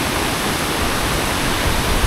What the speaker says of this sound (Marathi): हे बघा, हा जो धबधबा आहे तुम्ही त्या शॉर्ट्समध्ये बघितला तो हा आहे, असा काही दिसतो.